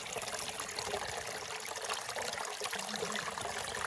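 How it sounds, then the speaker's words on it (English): Spring water flows out of the ground at a Sinai desert oasis, a steady close trickling and gurgling stream that runs unbroken throughout with no voices. "This water flows out of the spring here at this oasis"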